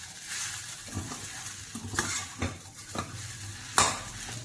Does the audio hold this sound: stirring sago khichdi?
yes